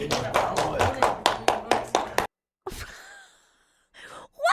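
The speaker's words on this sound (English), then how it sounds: "Clapping his little hands off" A man in a streamer university classroom claps his hands rapidly, about a dozen sharp, evenly spaced claps over two seconds. The clapping cuts off abruptly, and a few breathy vocal sounds follow after a pause.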